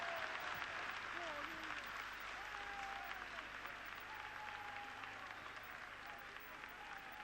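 A French crowd at a 1972 Rugby League World Cup match between Great Britain and Australia roars and applauds steadily after a try, a dense continuous wash of noise with occasional whistles and a commentator's voice faintly in the mix.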